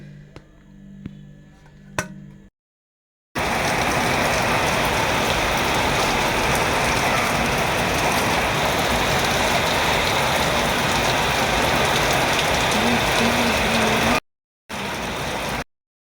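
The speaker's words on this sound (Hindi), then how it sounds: "वर्षा भी चलती" Steady rain pours down in a loud, continuous hiss across most of the clip, on a rainy day at a home, with a brief break near the end.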